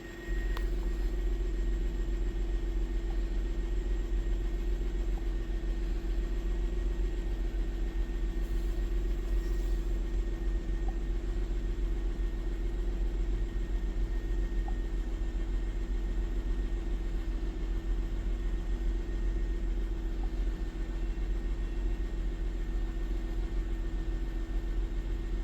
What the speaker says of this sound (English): so the car is running